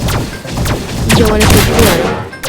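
Rapid bursts of gunfire and impact thuds during a boss fight in Barry's prison alien mode escape game, loud and busy with layered effects and no clear voice.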